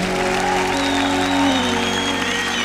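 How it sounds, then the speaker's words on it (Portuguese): Audience applause at a Christian gospel concert for a CD launch show, steady dense clapping filling the room, with sustained musical tones continuing underneath. "Aplauda esse Deus maravilhoso."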